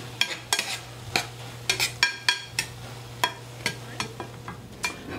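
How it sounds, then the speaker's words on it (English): Curly noodles are stirred in a pan, with a quick string of sharp utensil scrapes and clacks against the metal over a soft sizzle, close and steady, with no voices. "So I just like to keep stirring"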